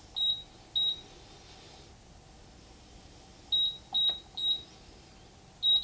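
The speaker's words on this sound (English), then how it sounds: "We're going to press 0 until it beeps twice." A gun safe keypad lock emits short, clear electronic beeps in two clusters: a pair of beeps, a pause of a couple of seconds, then a quick run of three or four beeps and one more at the end, in a quiet room.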